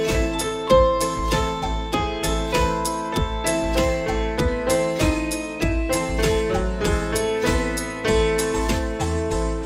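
Piano plays a fast theme from the game Undertale over a backing track, with rapid rhythmic chords and melody notes in a steady, driving pulse, loud and close with no talking.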